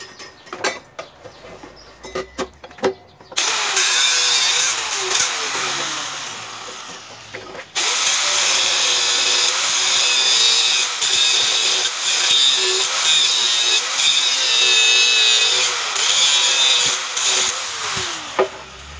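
A power tool cuts into an oil-leaking car suspension strut, a harsh whining grind that starts after a few scattered knocks, stops briefly, then runs steady and loud to the end.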